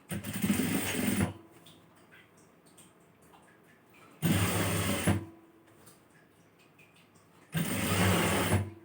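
A sewing machine stitching a chudithar neckline runs in three loud, close bursts of rapid whirring, separated by quiet pauses with faint handling noises.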